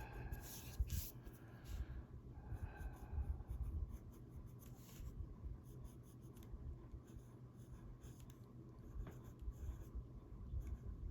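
A pencil scratches steadily over paper while coloring a flower-and-feather page, laying dark strokes on top of earlier pen work. The scratching is soft and close, in short repeated strokes with small pauses, and no one speaks.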